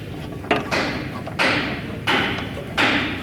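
A bolt is worked back and forth through a Chevy pickup's leaf spring mount, producing four loud, scraping metallic thuds about a second apart, each followed by a short rasp.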